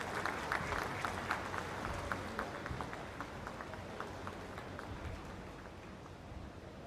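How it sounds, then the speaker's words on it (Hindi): Standing audience at an airport inauguration applauding the Prime Minister, steady dense clapping with crisp individual claps audible throughout, fading slightly toward the end. "एक बार जोरदार तालियों के साथ खड़े होकर अपने स्थान पर अभिनंदन वंदन स्वागत माननीय प्रधानमंत्री महोदय जी का"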